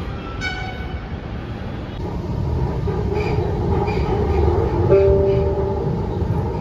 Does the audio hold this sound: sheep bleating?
no